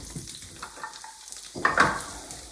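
Onions hit melted butter in a pan, giving a soft sizzle that swells into a brief louder burst of frying near the end, close and fairly quiet.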